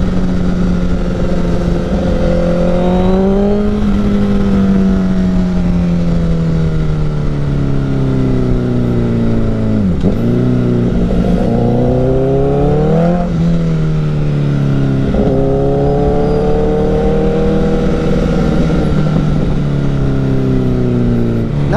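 A Honda CBR1000RR motorcycle engine roars loud and close, repeatedly climbing in pitch as it accelerates, dropping between shifts and rising again over about twenty seconds of continuous riding.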